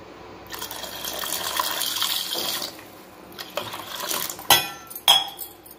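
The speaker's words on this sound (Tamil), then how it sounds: "அடுத்து வாட்டர் மிக்ஸ் பண்ணிக்கலாங்க." Water poured and mixed into nannari sherbet, a steady liquid pour with faint clinks of a spoon or utensil against the vessel, ending in two brief sharper knocks.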